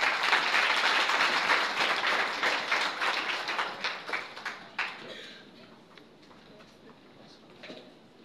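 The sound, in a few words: audience applause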